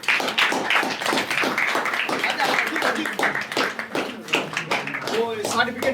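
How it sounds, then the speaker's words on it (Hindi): Loud audience clapping at a Hindi comedy stage play, dense and continuous for several seconds with voices talking over it and a singing voice rising near the end. "फिर एक बार आओ, जोरदार ताली"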